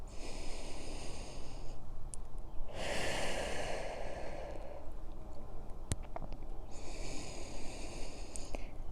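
Deep, slow breaths during a flexibility stretching routine, heard close up with a long, airy exhale in the middle and softer breathing on either side, over steady background noise, no talking.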